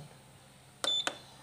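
A portable home sauna's control panel beeps twice as its timer is set, two short electronic tones close together over a quiet room background.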